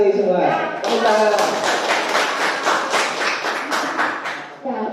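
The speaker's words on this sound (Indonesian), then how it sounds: "Terima kasih semua. Tepuk tangan." A class claps hands together in a loud, quick burst that runs for several seconds and then thins out, with children's voices shouting over and around the clapping.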